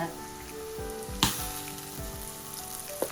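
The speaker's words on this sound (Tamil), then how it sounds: "இப்ப இந்த வெங்காயம் பாருங்க நல்லா பொன்னிறமா வதங்கிட்டு" Onions sizzle and fry golden in a pan with chili powder added, a steady close hiss broken by a few scrapes and stirs.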